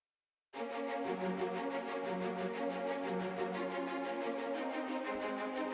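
Orchestral passage of continuous repeated triplet figures outlining a harmonic pattern, steady and moderately loud throughout with sustained harmony underneath, no voices.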